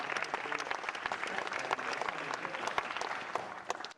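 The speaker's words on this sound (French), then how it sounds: "Applaudissements." Audience applause after a French-dubbed talk, many people clapping in a dense, sustained burst heard close and fairly loud throughout.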